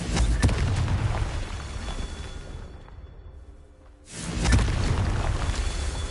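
A Confringo fire spell explodes in the video game Hogwarts Legacy with a loud, booming blast that decays into a brief near-silence, followed by a second booming burst.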